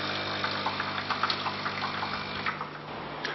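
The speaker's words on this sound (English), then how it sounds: "to clean the lines, you press this button, and all the used water and unused coffee dust is cleaned from the lines" A JAVA AMPS bean-to-cup coffee machine flushes water through its lines with a steady, fairly quiet gushing and trickling rush, broken by small splashing bursts.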